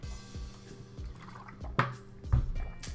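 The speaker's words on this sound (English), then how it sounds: "I need a sip of water." Someone taking quiet sips of water, soft wet gulps and small liquid drips heard close up over a faint background, with a couple of louder swallowing bursts near the end.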